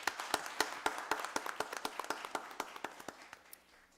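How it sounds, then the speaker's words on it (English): Applause at a county board of commissioners meeting: a small group claps in a sparse, distinct rhythm of individual hand strikes that thins and fades toward the end, in a quiet room. "Let's give all of them a round of applause."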